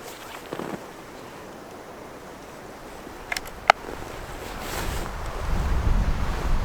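A strong gust of wind at an outdoor .22LR shooting range buffets the microphone as a rushing, rumbling roar that swells toward the end, with a sharp click midway and no talk.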